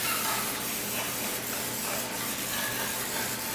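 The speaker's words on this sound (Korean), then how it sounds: "그래도 뭐 또 달라붙지 말라고 이렇게 스프레이를 뿌려주시는 것도 좋은 아이디어예요. 그래서 스프레이를 뿌리도록 할게요." Non-stick cooking spray hisses in a continuous close burst onto foil muffin tins, a dense airy spray lasting a few seconds with no talking.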